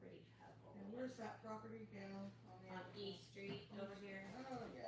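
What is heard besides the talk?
No distinct noise like a dog, phone or traffic.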